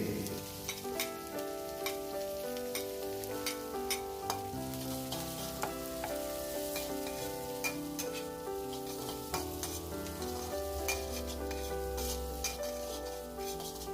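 Cabbage, onion and tomato stir-fried in a pan for glass noodles with egg, a continuous close sizzle and frying hiss with regular stirring clinks, under steady background music.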